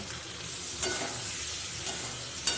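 Spices, onion, garlic and soya chunks sizzle in oil in a pan, with a steady close hiss and a few soft scraping stirs, no voices.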